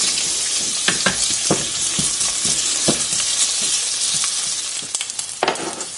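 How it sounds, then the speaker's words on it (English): Smoked bacon crisping in olive oil crackles and sizzles steadily in a pan, with occasional sharper pops and spatters standing out from the constant hiss, heard up close with no talking. "the first thing I'm going to do is crisp up the bacon, the smoked bacon"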